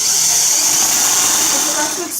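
A power drill bores a hole sized slightly larger than its screw, giving a loud, steady high-pitched whine that holds for about two seconds before easing off.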